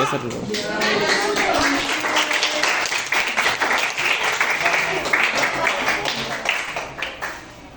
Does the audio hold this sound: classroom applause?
yes